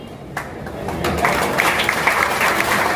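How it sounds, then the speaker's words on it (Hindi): A crowd at a political rally applauds, clapping building from a thin start into a fuller, steady wash of moderate loudness, with some voices mixed in. "इसके लिए तालियां बजा रहे हैं"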